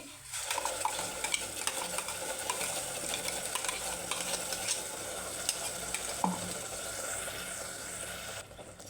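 Coriander paste sizzles and fries steadily in hot oil, with a spoon stirring and scraping the pan, a continuous crackle throughout.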